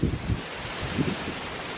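Wind gusting outdoors near a horse barn, a rough low rumble buffeting the microphone in a few short bursts before easing to a steady whoosh, fairly loud and close with no talking.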